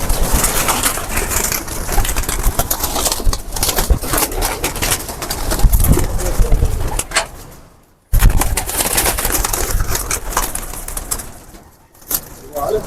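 Pigeons, including a wild pigeon among birds kept for sale in India, coo steadily and close by through a dense, noisy background, with a short break in the middle and occasional voices.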